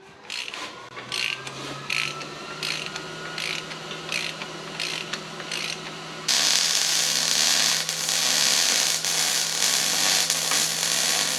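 A ratchet clicks in quick repeated bursts while the bearing caps on a differential housing are tightened down, with the carrier reassembled for an ARB locker air leak repair; the steady ratcheting sits close and fairly loud against a constant low hum.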